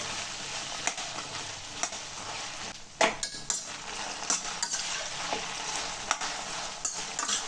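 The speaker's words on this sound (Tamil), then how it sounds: "வெண்டைக்காவோட நல்லா பிசு பிசுப்பு தன்மை போகிற வரை நல்லா மிக்ஸ் பண்ணிடலாம்" Okra with dried red chillies is stirred in a pan over quiet, steady sizzling, with spatula scrapes and taps recurring at irregular intervals.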